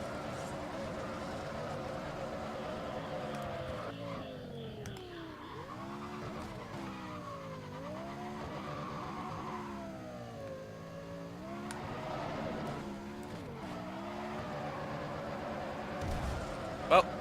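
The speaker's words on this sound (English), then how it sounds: "I'm going 87 miles per hour, drifting" A car drifts at high speed in the racing game Need for Speed ProStreet, its engine note rising and falling in repeated sweeps beneath long, sustained tire squeals.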